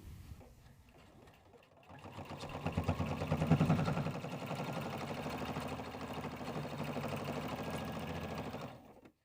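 Sewing machine stitching a tote bag seam, a fast, even mechanical chatter that starts after a quiet moment, swells slightly, and runs steadily for several seconds before stopping.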